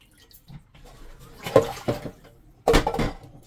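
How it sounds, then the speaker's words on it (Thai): Salted fish being washed by hand in water, quiet sloshing with two louder splashing bursts as the fish is swished and rinsed. "ล้างคาวล้างมันออกให้หมด เนี่ยค่ะ ล้างสักสองน้ำนะคะ"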